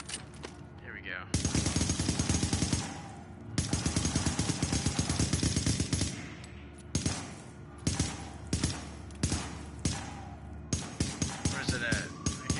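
Rapid bursts of gunfire from a weapon in a PS4 shooter, loud and close, firing in repeated volleys separated by short pauses.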